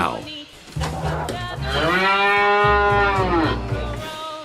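A cow moos loudly in one long, drawn-out low call lasting a couple of seconds, heard alone over a soft musical backdrop.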